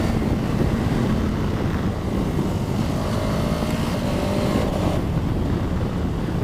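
KTM Super Adventure 1290 S big twin-cylinder engine, a steady broad rumble with wind roar rolling on unbroken at an even, loud level, with no voices.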